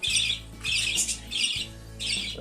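A cockatiel chick squawks repeatedly in harsh, raspy bursts while being fed, four loud close-up calls in quick succession with brief pauses between them.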